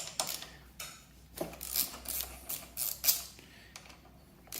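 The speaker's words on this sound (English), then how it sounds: "I'm gonna use my Allen socket, my hex socket, to loosen up the mirror here and pull this one out" Hex socket ratcheting as it loosens the bar end mirror bolt on a Triumph Street Triple 675 motorcycle, giving a run of quiet, rapid mechanical clicks and ticks in short bursts, close up.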